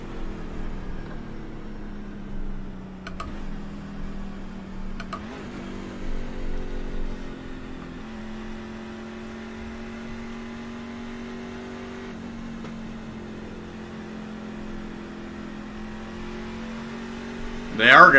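A car engine drones steadily in iRacing at Daytona International Speedway, a pace car in a NASCAR truck race, humming at a near-constant pitch with small shifts and a brief rev at the end, under someone talking.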